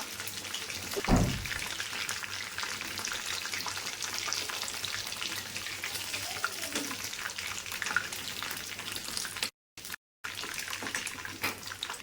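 Crispy chicken kebabs frying in hot oil, a continuous close bubbling sizzle with a thump early on and two brief dropouts near the end.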